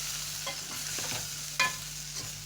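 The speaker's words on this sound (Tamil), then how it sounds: "இப்போ மசாலா பொடி கிளறி விட்டுக்கலாம்" Masala powder being stirred as it fries in oil for village-style vathal kulambu, soft scraping strokes over a quiet steady sizzle, fairly close and with no voices.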